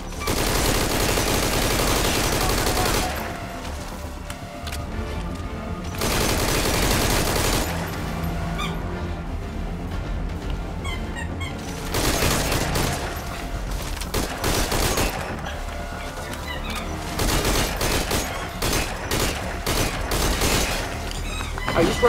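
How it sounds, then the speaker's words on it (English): Enemy gunfire rattles through a Metal Gear Solid V firefight in repeated loud bursts of automatic shots with short pauses between volleys, now and then mixed with heavier booms. "Okay, they're shooting."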